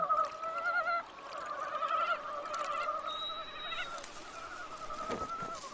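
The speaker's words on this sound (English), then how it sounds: "the frog calls sound like a dinner bell" Frogs give a chorus of mating calls in a Russian forest at night: sustained, overlapping honking tones, fairly faint and unbroken by speech.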